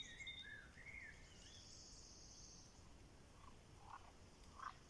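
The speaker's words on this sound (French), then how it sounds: "les oiseaux, les grenouilles." Frogs croak faintly outdoors in scattered calls, with insects buzzing and occasional bird chirps in a quiet background.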